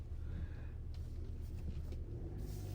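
A Ford Transit 350 Trend EcoBlue diesel van being driven, heard from inside the cab as a low, steady engine and road rumble at moderate level, with no talking.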